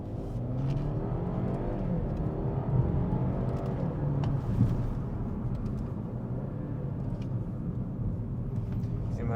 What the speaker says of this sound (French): c'est une voiture qui souffle, on va dire.